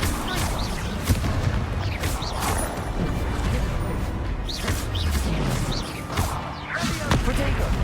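Explosion spells Confringo and Bombarda cast in a Harry Potter video game, repeated booming blasts and crackling impacts over a dense rumbling battle din, with a voice speaking throughout.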